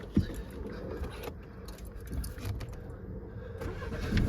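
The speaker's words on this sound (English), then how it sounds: "Start the car up." A Nissan Qashqai 1.5 dCi n-tec diesel with manual gearbox starting up, a faint key rattle and starter crank followed by a low engine rumble settling into idle, heard close from inside the car.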